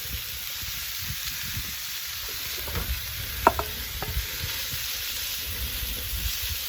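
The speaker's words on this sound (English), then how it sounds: "You can hear some of that sizzle." Sausage sizzles quietly in a hot skillet, a soft steady crackle with a few sharper pops, no voices.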